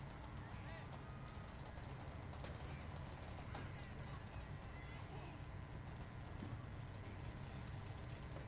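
Builders Car Club cars from Harrison, Arkansas, rolling in a small-town Christmas parade, their motors making a steady low rumble under continuous crowd noise and distant voices, with no single engine standing out.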